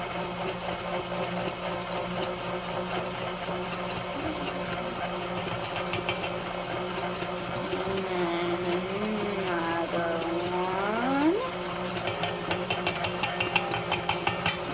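An electric mixer whirs steadily through cupcake batter, a moderate mechanical hum with faint rattling, while a person talks intermittently in the background.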